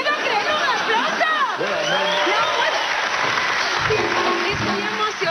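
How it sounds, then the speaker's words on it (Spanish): A studio audience claps and cheers at close range, with scattered whoops. Talk and laughter from the set run over the clapping throughout. "¡un aplauso!"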